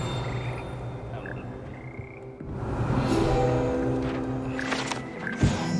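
Frogs of the Hogwarts Frog Choir croak in the video game Hogwarts Legacy, a cluster of repeated, fairly close calls over a quiet ambient background that swells midway.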